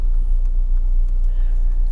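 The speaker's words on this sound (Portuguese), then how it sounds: "esse carro é um Ford Ka 2003" A 2003 Ford Ka drives along a road, its steady low engine and road rumble filling the cabin in a continuous drone without pauses.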